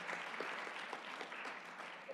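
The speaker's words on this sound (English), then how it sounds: "please give a round of applause for the really amazing question" Audience clapping at a conference side event on the gender digital divide, a steady, even patter of many hands heard from a distance, fairly quiet and continuous for about two seconds with no voices over it.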